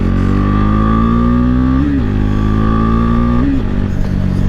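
A KTM RC390 motorcycle engine runs loud and close with a steady drone, rising twice in short revs before settling back.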